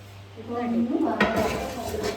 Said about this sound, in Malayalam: പാത്രങ്ങളൊക്കെ മോറി വെച്ച് നിൽക്കുകയാണ് നമ്മൾ